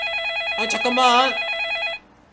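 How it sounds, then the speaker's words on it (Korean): A telephone rings with a steady repeating electronic trill, loud and close, in a Minecraft family skit, while a voice briefly talks over the middle of the ringing before it cuts off. "전화 오네."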